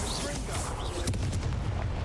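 A fire spell cast in Hogwarts Legacy gives a dense roaring, crackling burst that stays loud and continuous throughout, with sharper pops near the middle.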